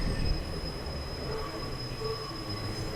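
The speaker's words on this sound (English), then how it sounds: "The train." A train passing in Hasidic Williamsburg, a steady loud rumble of rail noise with a thin, sustained metallic wheel squeal running throughout, close by and without talk.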